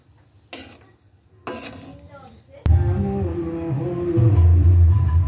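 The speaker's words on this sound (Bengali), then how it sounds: "হালকা তেলে এটাকে ভাজবো, বেশি তেল দেব না" Mughlai paratha fries in a small amount of oil, first with a few handling knocks and clatters, then a steady close sizzle that builds and holds to the end.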